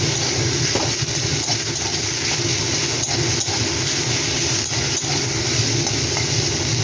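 Fish fries in oil with whole cumin and onion, a loud continuous sizzle with steady stirring scrapes and no pauses.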